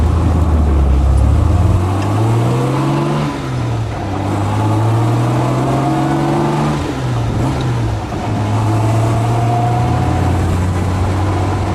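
A 1968 Jaguar E-Type 4.2 Series 1.5 convertible drives in traffic, its engine note climbing and dropping through several gear changes, loud and close over steady road and wind noise.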